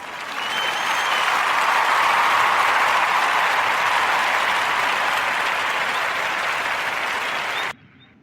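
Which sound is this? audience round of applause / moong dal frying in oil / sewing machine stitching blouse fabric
audience round of applause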